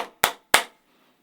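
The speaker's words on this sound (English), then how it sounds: "You could even just do this by clapping in two different ways, with a low clap and a high clap." Two sharp, close hand claps spaced about a third of a second apart, one low and one higher in pitch, each ringing briefly before fading into silence.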